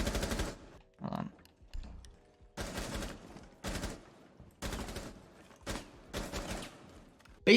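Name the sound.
gunfire in video game Rainbow Six Siege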